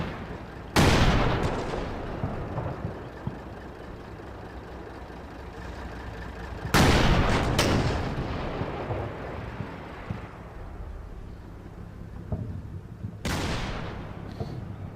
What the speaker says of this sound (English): Still rifle fire though.